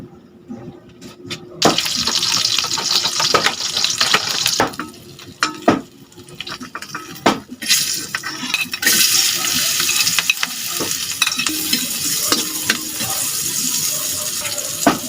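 Cooking oil heats in a pan for a papaya and dried sardine dish, giving a steady broad sizzle with scraping stir strokes and occasional clatter, moderately loud throughout.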